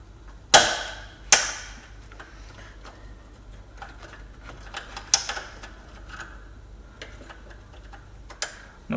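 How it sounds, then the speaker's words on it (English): Pliers working at a nut on the front subframe of a Jaguar S-Type under restoration, giving a few sharp metallic clicks and scrapes with pauses and faint rattles between them, close by and without speech. "Let's try this with some pliers."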